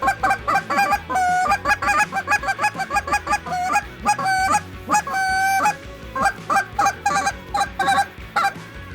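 A handheld goose call is blown to imitate goose honks, with loud rapid series of clucks and honks in quick bursts, pausing briefly between runs, close and alone with no talk.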